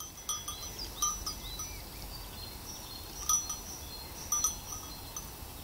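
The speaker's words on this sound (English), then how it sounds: "You can hear the bell on the goat." Bell on a grazing goat clinks in a few light, intermittent jingles during a spring countryside walk, faint and somewhat distant over steady outdoor ambience with birds.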